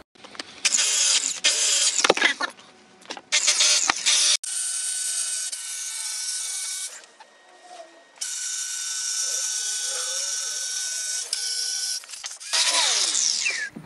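Polishing wheel grinding and whirring against aluminum, loud and continuous with bursts and brief drops in pitch as the wheel is cleaned, then resuming steadily.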